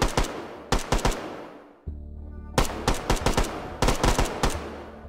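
Tommy gun in the Hot Dogs, Horseshoes and Hand Grenades World War II game firing in several loud, close bursts of rapid automatic shots, with a short quiet gap of low hum between bursts.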